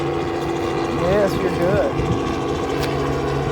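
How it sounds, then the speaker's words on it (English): A helicopter flies overhead above a parking lot, a steady low rotor thrum and engine drone filling the scene while a person speaks briefly over it. "Helicopter."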